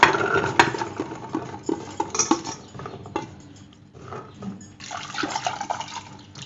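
Water is poured into a pressure cooker over rajma beans that soaked for ten hours. The splashing and gurgling is close, sometimes with light clatter against the metal pot, then eases before a second pour.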